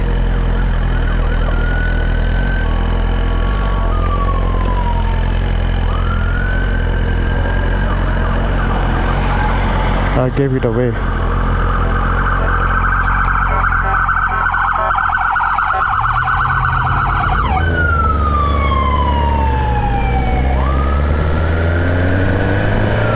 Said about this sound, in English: There is an ambulance or something coming behind.